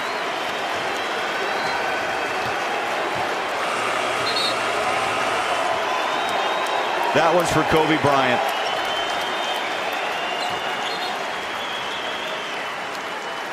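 A packed home arena crowd at Staples Center roars and chants during an NBA game tribute to Kobe Bryant. The loud, continuous wash of voices swells briefly midway, with a commentator talking over it.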